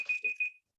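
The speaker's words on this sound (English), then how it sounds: "That's my time. They're beeping at me" A presentation timer at a physical education pedagogy talk gives three short, evenly spaced electronic beeps, faint and clean, then falls silent.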